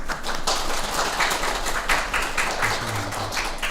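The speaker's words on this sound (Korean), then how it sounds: "박수로 환영할까요?" A church congregation at a Sunday worship service claps to welcome returning members, giving steady, dense applause that runs for several seconds in a reverberant room.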